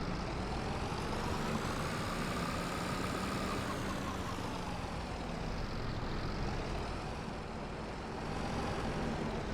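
Tractor engine in Farming Simulator 22, a steady, continuous low drone that holds at an even level throughout with a faint rise and fall in pitch, no speech over it.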